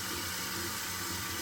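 Toilet fill valve refilling the tank, a steady rushing hiss of water flowing continuously without a break.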